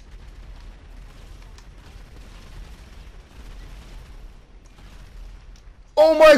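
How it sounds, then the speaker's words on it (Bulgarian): A loud, sudden blast erupts at the very end as an airplane explodes in GTA 5 on PC. Before it comes a long stretch of faint low rumble and quiet game noise. "самолет ако взрива"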